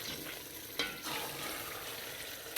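Mustard greens stirred into a sizzling masala in a pan, a steady frying hiss with scraping stirring strokes, close and alone.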